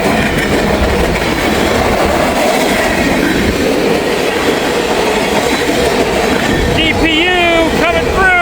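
A freight train with a distributed power unit rolls past in Kentucky, loud and close, with dense rumbling and clattering wheels, later joined by high squealing wheel tones; voices are faintly present.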